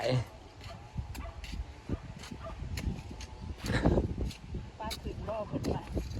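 A dog yaps and barks in short, scattered bursts, mixed in with steady nearby talking and outdoor background noise.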